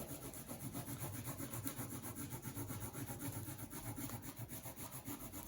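Crayon rubs back and forth over paper laid on a potato bag net, a close, continuous scratchy rasp with a steady rhythmic pulse of strokes, fairly quiet and with no talk.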